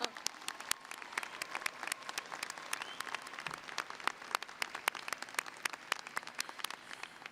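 Applause at a law school graduation ceremony is heard as a steady patter of many hands clapping. It is moderately distant and carries on for several seconds.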